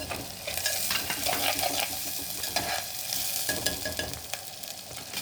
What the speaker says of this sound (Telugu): ఇది కొద్దిగా వేగాలి, పచ్చి వాసన పోయేంత వరకు